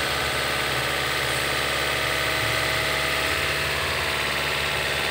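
A 2009 Toyota Yaris engine idles steadily, a constant low rumble and hum with no variation in pace and no voices.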